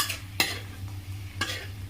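Ginger paste and curry leaves sizzle softly in a pan on a low flame as a spoon stirs them, giving two sharp scraping strokes over the constant frying hiss.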